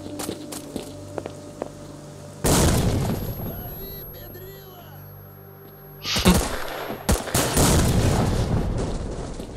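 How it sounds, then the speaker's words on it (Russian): Bursts of gunfire in a shootout in the video game S.T.A.L.K.E.R. Lost Alpha, loud dense volleys in two stretches with a quieter gap of muffled ambience between them. "Фига тут перестрелки, ребята"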